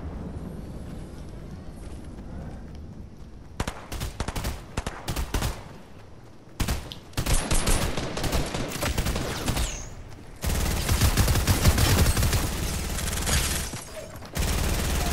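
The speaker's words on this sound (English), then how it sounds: "Rapid fire SMG." Rapid bursts of submachine gun fire in a Fortnite-style battle royale game, loud clustered volleys separated by brief pauses, with a few faint voices in between.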